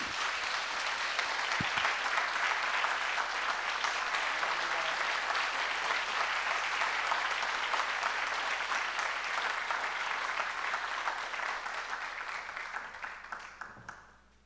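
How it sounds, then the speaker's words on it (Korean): A church congregation at a revival meeting gives loud, sustained applause to welcome a pastor to the stage. The clapping is dense and continuous for most of the time, then tapers off and fades near the end. "우리 민영진 목사님 나오실 때 아주 큰 박수로 축복하며 환영하겠습니다"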